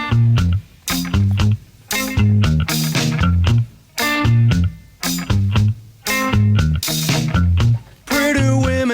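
A new wave song plays loudly with steady drums, bass and bright instrumental chords in short repeating phrases, no voices heard.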